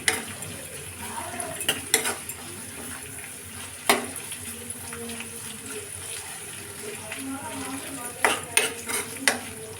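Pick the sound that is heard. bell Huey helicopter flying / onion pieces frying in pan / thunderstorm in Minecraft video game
onion pieces frying in pan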